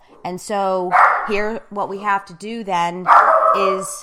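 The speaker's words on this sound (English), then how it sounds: "I'm sorry, that is my dog." A pet dog barks and yips repeatedly in a room, several sharp close barks in quick bursts while someone talks over them.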